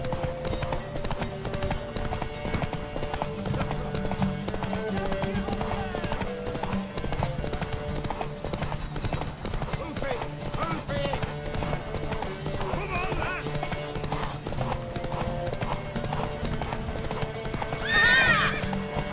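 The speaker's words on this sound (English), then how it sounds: "Want that horse, don't ya?" Horse hooves clip-clop steadily through a race in The Witcher 3 video game, with a horse neighing near the end, set under game music and voices speaking.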